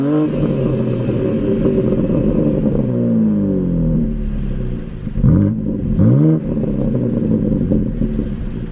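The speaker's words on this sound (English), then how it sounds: "I'm gonna let you hear some exhaust notes from the car" A BMW M3 Competition's loud exhaust idles with a deep rumble in its loudest mode, then revs up several times in quick bursts, close to the microphone.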